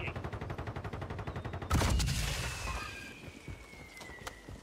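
Gunfire in a shooter video game: a dense rapid burst of automatic shots, then a loud close blast followed by scattered fainter reports and a lingering ringing tail.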